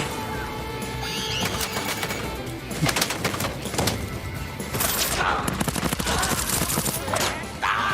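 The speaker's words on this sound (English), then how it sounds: "Bullets flying everywhere." Rapid video-game gunfire with a turret firing, dense bursts of shots crackling loud and close with brief pauses, busy battle noise throughout.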